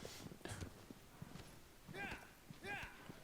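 Horse hooves clip-clopping at a run in the video game Shadow of the Colossus, a faint, irregular beat of hoofbeats with voices talking over it.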